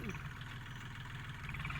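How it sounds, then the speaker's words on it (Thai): Steady mid-pitched engine drone of a Kubota L4018 tractor with a crawler attachment while plowing a rice field, running evenly and continuously close by. "รถไถติดคลาดนี่มันต้อง ถอยออกถอยเข้าครับ"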